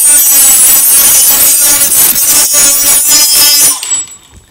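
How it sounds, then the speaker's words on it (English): A RYOBI 18V ONE+ compact brushless saw cuts through wood, running in reverse, with a loud, close, harsh buzzing rasp that holds steady for nearly four seconds before the blade winds down and fades out. "So we'll go ahead and cut in reverse for this first one."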